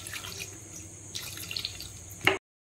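A small amount of water is poured into a pressure cooker holding a chickpea curry cooked without onion or garlic, giving a soft, close splash and trickle for about two seconds that ends with a brief sharper clink before silence.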